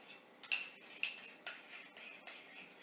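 A metal spoon scrapes and clinks against a bowl while stirring yogurt into a face mask, several distinct strokes at an uneven pace, close and fairly quiet.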